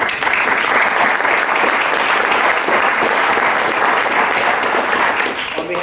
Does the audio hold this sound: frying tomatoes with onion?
no